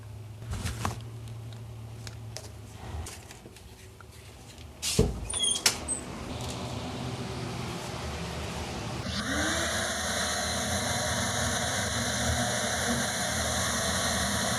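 After some shuffling and handling noises, a belt grinder starts up and runs with a steady whirring motor whine and belt hiss, working a roughly cut Kydex sheath in a workshop.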